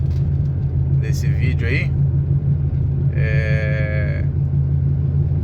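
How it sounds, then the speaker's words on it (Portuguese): A worn right front wheel bearing in a Chevrolet Onix car gives a steady, loud low hum and rumble that runs through the whole clip, with someone talking over it. "Quase que certeza que é o rolamento da minha roda direita que tá estourado."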